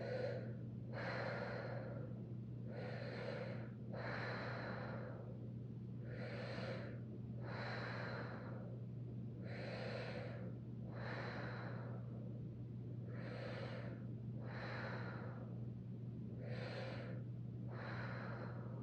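Deep yoga breathing during a gentle hip flow, about eleven slow, even inhales and exhales in a steady rhythm, close and clear over a constant low hum.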